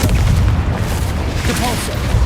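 A Confringo blasting spell erupts in the Hogwarts Legacy game as a heavy, booming explosion with deep rumble that stays loud and sustained through the whole moment.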